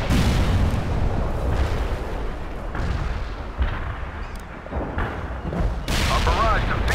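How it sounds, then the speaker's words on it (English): Loud, continuous artillery barrage in the World in Conflict strategy game, with dense overlapping booms and rumbling blasts through the whole stretch and brief crackling bursts near the end. "Our barrage defeated the enemy."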